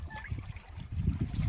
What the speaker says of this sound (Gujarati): તો હવે મિત્રો આપણે પાણી ચડાવ્યું છે લાઈનમાં.